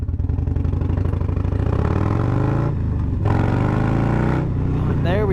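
A Harley Davidson Low Rider S motorcycle fitted with a new fuel pump runs loud and close, its engine droning and rising steadily with a couple of brief gaps as it revs.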